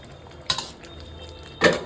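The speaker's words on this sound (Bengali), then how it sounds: "চিকেনটা, একটু নেড়ে নেবো।" Fried chicken for biryani is stirred in a pot, two quick metallic scrapes and clinks of a utensil against the pan separated by a quiet pause, fairly close and alone.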